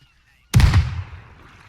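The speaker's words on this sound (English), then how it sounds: "Our cannons are too powerful." A ship's cannon in a video game fires a single loud blast after a near-silent pause. The boom fades into a rumbling tail that lasts about a second.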